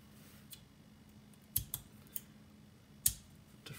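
Scissors or flush cutters snipping printed iris box petals free from their supports, a few sharp, close clicks spaced irregularly over a quiet room.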